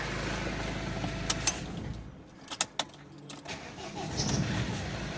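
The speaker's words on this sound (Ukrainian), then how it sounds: "Машинка запускається." A repaired Opel Frontera diesel engine cranks and fires up in a workshop, a few short clatters and bursts followed by a low steady idle, moderately quiet and without speech.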